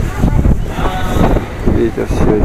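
Gusty wind buffets the microphone outdoors at a festival in Yakutsk's old town in March, with a voice speaking underneath.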